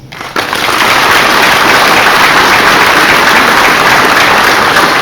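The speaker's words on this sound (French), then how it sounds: "Yves Schweitzer, qui mérite aussi amplement nos applaudissements." Sustained, dense applause from an audience at a fire brigade command handover ceremony, loud and steady throughout after a brief quieter start.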